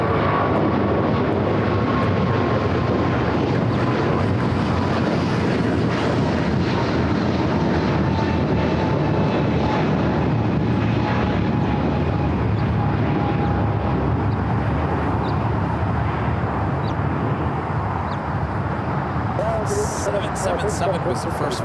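A jet at LAX rumbles on the ground with a steady, loud, broadband roar and a faint whine that slowly shifts pitch, running continuously for the whole stretch.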